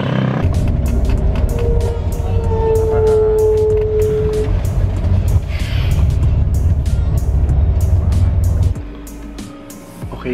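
A truck rumbles past on the road, a loud, low engine roar with a rising and falling whine that holds for several seconds and then drops away, while people talk in the background.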